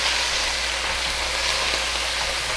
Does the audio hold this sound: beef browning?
yes